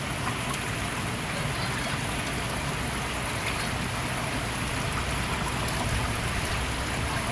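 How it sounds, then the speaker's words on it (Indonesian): Steady heavy rain pours over village rice paddies, a dense continuous hiss and patter with no pauses, close and loud throughout. "hujannya masih turun"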